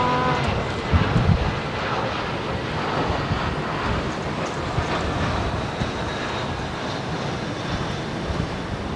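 An airliner, flight SQ308, arrives at London Heathrow in windy conditions, a steady broadband jet roar that holds loud and fairly constant throughout, mixed with gusting wind noise and no talk.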